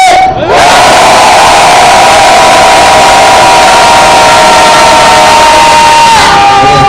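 A large outdoor crowd at a 2013 Korean peace rally lets out one sustained, loud collective roar that fills the whole stretch, swelling after a brief pause and holding steady before fading at the end.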